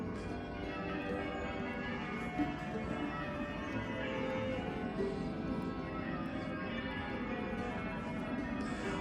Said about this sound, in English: I don't know what to say about these bells.